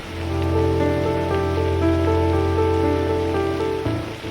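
Steady rain patters against a window in an unbroken wash, with sustained tones humming beneath it.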